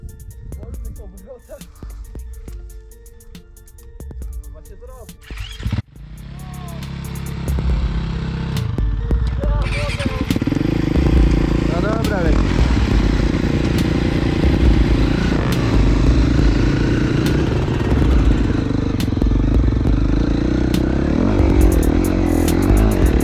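Motorcycle engine starting and revving, a KTM LC 620 or SXF 350 dirt bike outdoors: quiet shuffling and clatter, then the engine catches and runs loud and close, revving steadily for the rest of the stretch, with brief voices.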